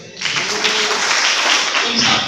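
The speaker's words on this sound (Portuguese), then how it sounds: "Dê uma salva de palmas." Congregation clapping during a family worship service at church, a dense steady wash of applause filling the clip after a brief quieter start, with a voice faintly audible underneath.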